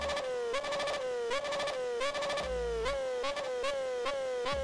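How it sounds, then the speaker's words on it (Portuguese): A motorcycle engine in a video game revs repeatedly, its buzzing tone climbing in pitch and dropping back again and again in steady cycles, moderately loud and alone. "olha o ronco dessa moto."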